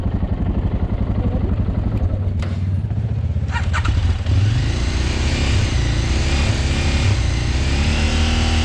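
A motorcycle engine revs up on its own during a Carpathian mountain ride, a loud, close, continuous roar rising and falling over several seconds with a clattering edge.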